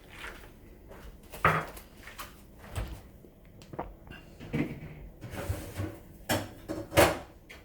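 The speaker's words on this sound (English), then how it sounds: "So everything goes in that chill drawer in the fridge." A refrigerator chill drawer slides open and shut in a home kitchen, giving several soft knocks and rattling thumps spread over a few seconds, fairly quiet with room noise between them.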